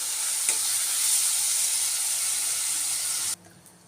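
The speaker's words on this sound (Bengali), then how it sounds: "একটু অল্প করে হলুদটা দিয়ে আবারও আমি ভালো করে ভেজে নেবো" Ridge gourd pieces fry with turmeric in a pan, giving a steady, loud, close sizzle with a faint clatter near the start. The sizzle cuts off abruptly near the end, leaving quiet background.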